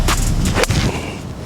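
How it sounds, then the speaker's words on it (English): A golf wedge chip shot struck outdoors, heard as a single quick crisp contact amid steady wind-like background noise. "And here we have it, chip shot"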